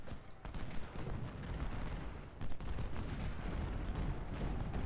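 Distant massed rifle volleys and booming artillery in a Civil War strategy game at Second Bull Run, a continuous rumbling clatter of overlapping shots with heavier thumps, steady and moderately loud, no voices.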